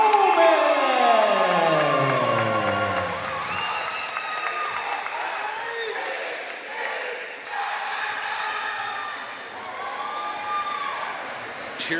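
Crowd at a professional boxing match cheering loudly and continuously, with a rising siren-like air horn or whistle at the start, while an announcer talks over the noise.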